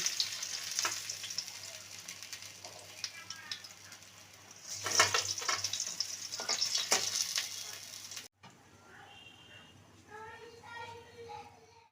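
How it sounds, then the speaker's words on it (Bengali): Steady sizzling of katla fish frying in hot oil in a kadai, with bursts of louder crackling and stirring; a voice speaks softly near the end. "একবার মাছ ভাজা হয়ে গেছে"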